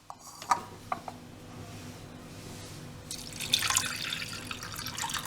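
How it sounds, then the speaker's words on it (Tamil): Water is poured onto chana dal in a cooking pot, first with a few faint drips and clinks, then a louder, steady close-up pouring splash in the second half. "கடலைப்பருப்பு, அதுக்கு தேவையான தண்ணியை ஊற்றிக்கிறேன்"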